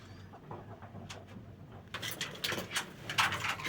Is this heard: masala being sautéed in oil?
no